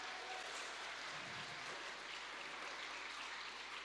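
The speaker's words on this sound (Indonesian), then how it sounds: "Kami mohon tepuk tangan yang meriah." Audience applause at a farewell concert, a faint, dense wash of clapping that holds steady throughout.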